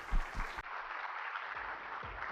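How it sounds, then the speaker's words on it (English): A conference audience claps for a speaker taking the stage, a steady, moderately faint patter of many hands that keeps going throughout, with a few low thumps near the start. "Can we have a round of applause for Majid?"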